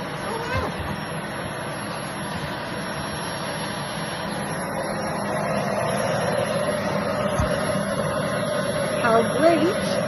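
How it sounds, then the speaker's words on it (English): Vacuum cleaner running continuously as it sucks up small beads through a sock over the nozzle, a broad steady roar that thickens slightly midway, with someone talking over it. "So please excuse the noise of the vacuum."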